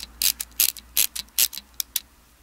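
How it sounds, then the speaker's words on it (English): The shutter knob of a 1937 LeCoultre Compass camera is wound clockwise, giving a close, crisp run of small ratcheting clicks in uneven bursts, alone and clear. "we just need to cock the shutter by rotating this knob clockwise until it no longer rotates"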